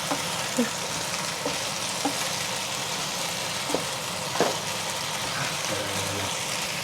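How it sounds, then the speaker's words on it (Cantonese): Potatoes fry in a pan for a braised chicken wings dish with turmeric, giving a steady, moderately quiet sizzle throughout, with a few faint clinks and stirring taps scattered across it. "咁而家煎緊啲薯仔，薯仔咧要煎一煎佢先會香"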